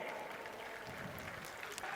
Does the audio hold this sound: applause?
yes